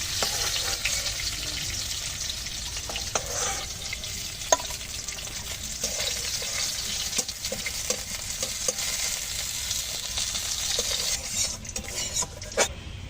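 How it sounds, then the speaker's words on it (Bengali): China puti fish fry in oil with a continuous close sizzle, broken by scattered clinks and scrapes as the pieces are stirred and lifted from the pan. "মাছটা সুন্দর করে ভেজে নিলাম, এখন তুলে নিচ্ছি"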